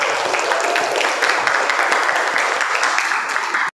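Classroom applause for a group about to give a presentation, a dense burst of many hands clapping steadily for several seconds before cutting off abruptly.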